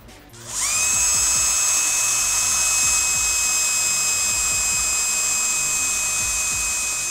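A power drill with a 3.5 mm bit drilling plastic spins up and runs steadily at a high, whining pitch, loud and close, with no talking.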